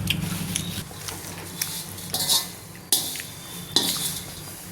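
Flattened rice (avalakki) roasting in a pan over a low gas flame, a metal spoon scraping and clinking against the pan in several separate bursts over a faint background hum.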